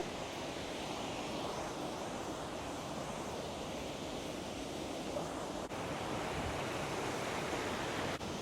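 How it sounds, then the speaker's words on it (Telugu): A waterfall near Mbarara, Uganda, pours in a constant broadband rush of falling water, steady and fairly close throughout with no voices over it. "ఇదిగోండి వాటర్ ఫాల్స్ ఈ విధంగా ఉంటాయి చూశారు కదా"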